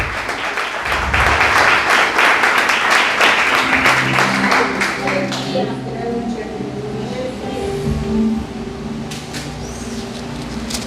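A church congregation bursts into loud applause for several seconds, then the clapping fades out as a low sustained organ or keyboard tone and a voice take over.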